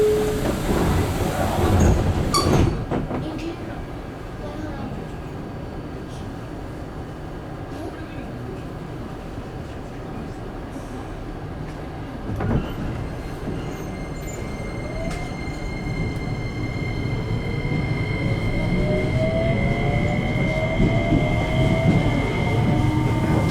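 A JR Kyushu 303 series local train runs between Chikuzen-Maebaru and Meinohama, starting with a rumble, then a steady interior running hum with rising motor whine, rail clatter and faint squeals; onboard announcements are heard.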